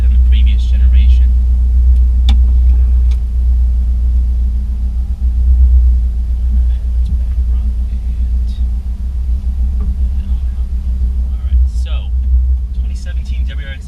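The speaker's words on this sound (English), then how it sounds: "Gotta love that boxer rumble." Deep, steady low rumble of a 2017 Subaru WRX STi boxer engine, loud and continuous throughout, with a few short bursts of speech above it.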